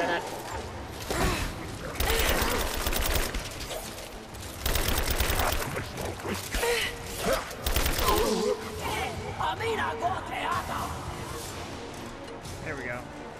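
Rise of the Tomb Raider gunfire crackles in several loud bursts of rapid shots, separated by quieter stretches of game sound, with people talking over the action.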